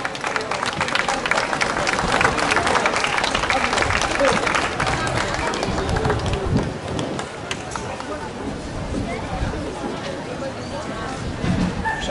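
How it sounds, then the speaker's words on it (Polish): Warm audience applause at a regional trade fair in Kraków, dense steady clapping from a large crowd that swells early, then thins slightly and carries on evenly, with some voices mixed in. "bardzo proszę o gorące brawa"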